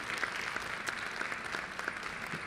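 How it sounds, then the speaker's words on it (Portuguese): A crowd at a social workers' day celebration claps for a woman named Hilda, a fairly soft, steady round of applause with a few sharper claps, no voices over it. "Uma salva de palmas para a nossa querida Hilda."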